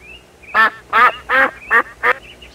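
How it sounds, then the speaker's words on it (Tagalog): A large duck quacks five times in a loud, close, evenly spaced series, each call a short nasal burst, with a faint bird call between them. "Itik naman yung nandoon sa baba ng bintana. Malaking itik."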